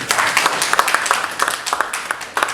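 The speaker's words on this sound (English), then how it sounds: "A round of applause" Audience applause at a memorial lecture, dense patter of many hands with irregular peaks, fairly loud and close, filling the room without any voices over it.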